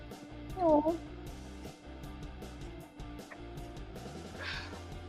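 A house cat meows near the microphone, with one clear cry early on and softer mews later, under a person talking to it in a home setting.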